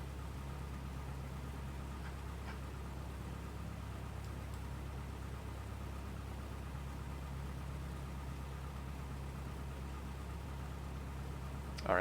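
A Cessna 172 engine idles steadily while the plane taxis toward the runway at Jackson Hole, a constant low drone that runs unbroken and fairly loud throughout with no voices.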